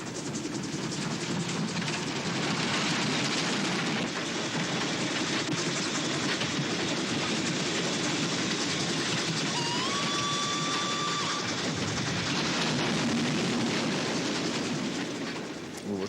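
A fast-running train in a film scene roars continuously and loudly, its steady rush broken by a brief whistle-like squeal partway through, with no talk.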